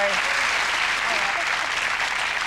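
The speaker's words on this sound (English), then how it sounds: "A round of applause." Studio audience applause on a 1990s British TV game show, a dense steady wash of many hands clapping throughout, fairly loud and close, with a faint voice briefly under it at the start.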